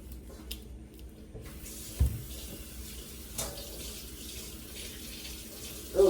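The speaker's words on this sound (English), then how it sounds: "let me wash my hands" Tap water runs quietly into a sink while someone washes their hands, a soft steady hiss with a few clunks and knocks, no talking.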